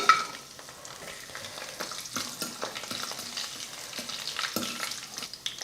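Whole spices, including cardamom and a bay leaf, crackle and sizzle in hot oil, with brisk stirring scrapes and small pops recurring throughout.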